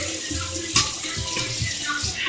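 Tap water runs steadily into a kitchen sink while rinsing, with a near, continuous splashing rush and a few louder spatters as the flow hits something below.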